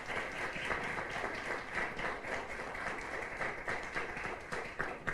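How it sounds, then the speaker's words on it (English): Steady, faint applause from an audience at a Latino voting issues symposium, honoring the panelists, with dense continuous clapping throughout and little talk. "Round of applause for our esteemed panelists"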